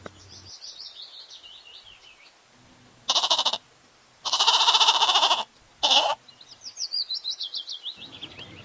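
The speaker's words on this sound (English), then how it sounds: "G for goat." A goat bleats in three loud, wavering bursts, close to the listener, while birds chirp and tweet softly in the background before and after.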